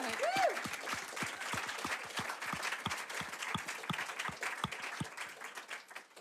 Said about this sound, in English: massive round of applause for that level of vulnerability